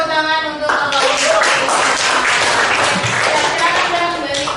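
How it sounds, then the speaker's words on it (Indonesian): Classroom applause as students clap together, a dense burst of hand claps starting abruptly and continuing steadily at close range, with voices mixed in underneath. "Berikan tepuk tangan untuk Bapak Ibu."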